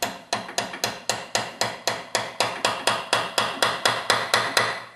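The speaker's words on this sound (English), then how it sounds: "So we get our hammer." A hammer taps a plug into a Meyer E-60 snowplow pump part, about eighteen sharp, evenly spaced metallic blows in steady rhythm, close and loud with no talk.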